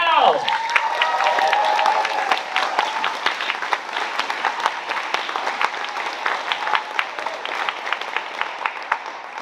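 An audience claps steadily in welcome as a speaker named Jasmine Patel is introduced at the MCN Ignite 2024 event, dense applause sustained throughout with a few whoops and voices mixed in near the start.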